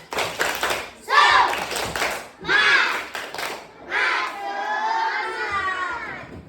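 A group of children in a classroom clap in rhythmic bursts and shout together in a lively call-and-response chant, close and loud.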